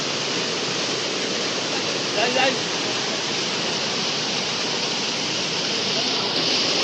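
Water rushes and flows at Panchalingeshwar temple, a loud, steady broadband roar like a small waterfall, continuous throughout with a brief murmur partway through.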